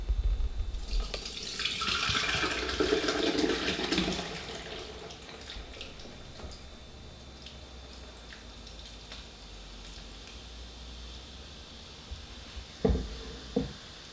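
Homemade fizzy drink being strained and poured, a splashing, trickling pour in the first few seconds that fades to a quiet hiss, followed by a couple of brief knocks near the end, with no talking.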